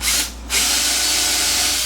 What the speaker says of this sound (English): now I'm pre-drilling all this and pre-assembling it